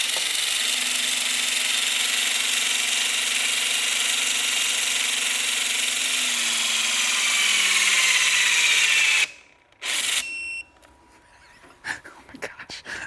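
A HYTORC centerlock wheel gun tightens a wheel with a loud, steady high-pitched whine lasting about nine seconds, its pitch sliding slowly downward, then cutting off abruptly into a few clicks and clunks.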